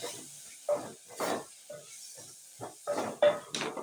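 Githeri with tomatoes being stirred in a pot, giving a run of separate scraping, wet stirring strokes in an uneven rhythm with a faint sizzle underneath. The sound is close and moderately loud, and no one speaks.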